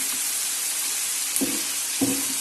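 Beef boti sizzles steadily on a tawa over low heat as about four spoons of yogurt go in, a constant frying hiss broken by two brief bursts of stirring, close up.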